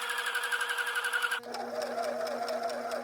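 A sewing machine stitches fabric around a curved edge on Minnie Mouse ear pieces, a steady close whirring hum that shifts to a lower, slower running tone partway through.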